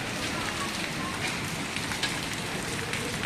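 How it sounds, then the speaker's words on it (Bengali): Rain and hailstones fall on Dhaka city, a dense, steady hiss of rain with scattered sharper impacts of hail striking surfaces nearby. "দেখুন, ঢাকা শহরে বৃষ্টি হচ্ছে এবং শিলাবৃষ্টি হচ্ছে।"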